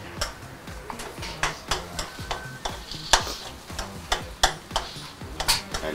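Seasoned tagine with salt and pepper being stirred, producing a steady rhythm of scraping, clicking strokes about twice a second, close and fairly loud, with no talking over it.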